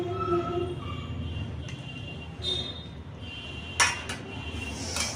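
A pot of hilsa fish curry with eggplant is lifted off a stove, giving a short metallic clink and scrape of cookware over a steady kitchen hum, close by.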